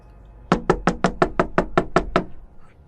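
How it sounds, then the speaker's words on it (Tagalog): Ten loud, evenly spaced hard knocks pound on a kitchen back door in a fast steady rhythm, close and forceful, with nothing else in the background. "marinig niya ang padabog na katok mula sa likurang bahagi ng pintuan ng kanilang kusina"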